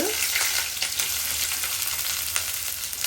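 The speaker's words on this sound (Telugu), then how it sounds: "ఆనియన్స్ ఏంటంటే మనకి గోల్డెన్ బ్రౌన్ కలర్ వచ్చేంత వరకు ఫ్రై చేయాలి" Thinly sliced onions fry in hot oil for a kushka biryani, a steady close sizzle with occasional soft stirring scrapes throughout, no voices.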